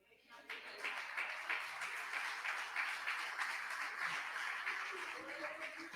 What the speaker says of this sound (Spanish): ¿Cuántos brindan un aplauso al Señor?